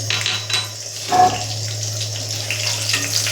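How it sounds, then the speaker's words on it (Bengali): Black cumin seeds and green chillies hit hot mustard oil left from frying fish, giving a close, steady sizzling hiss over a low hum, with a brief clatter partway through. "এবার এর মধ্যে আমি কালো জিরে কাঁচা লঙ্কা ফোড়নটা দিয়ে দিলাম।"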